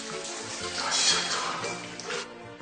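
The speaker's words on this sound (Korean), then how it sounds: "샤워를 시작하지만 비누를 들어올릴 힘조차 남아있지 않아 대충 물로 헹구고 밖으로 나가요." A shower runs as a person rinses off with plain water, giving a steady, close hiss of spraying water that swells for a moment and then eases, with no talk over it.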